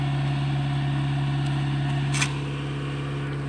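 A Kia Carens II engine holds steady at 2000 RPM, a continuous close mid-pitched hum with a brief higher sound near the end.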